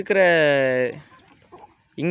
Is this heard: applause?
no